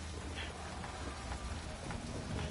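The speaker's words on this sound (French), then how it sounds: "De la pluie." Steady rainfall in the rugged outdoor world of Death Stranding, a dense continuous hiss of drops on the ground with faint low rumbles beneath, even and unbroken throughout.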